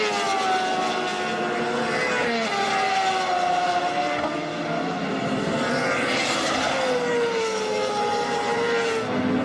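A Castrol Suzuki endurance racing motorcycle laps the Vallelunga circuit, its engine a loud, continuous high-revving wail that rises and falls through gear changes and throttle shifts, with the sound of other bikes mixed in.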